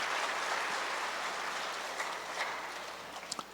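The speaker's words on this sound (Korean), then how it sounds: "한번 박수해 보세요." Applause from a church audience honoring Sunday school teachers at a summer evening concert, a steady broadband patter of clapping that fills the clip at moderate level and thins slightly toward the end.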